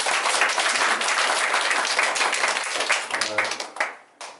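A church congregation applauding at a Sunday thanksgiving service, dense sustained clapping filling the room before tapering off, with faint talk near the end.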